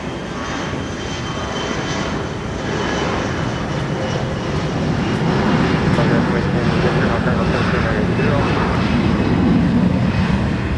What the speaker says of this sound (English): we're going to get quite some spray from these jets taking off here on 30 left